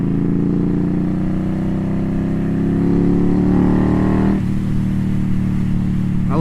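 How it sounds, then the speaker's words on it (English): A tuned Indian Scout bobber motorcycle engine revs loud and close, its deep harmonic roar climbing steadily then dropping off sharply as the throttle closes, with a lower rumble carrying on afterward. "With this tuned Indian Scout bobber,"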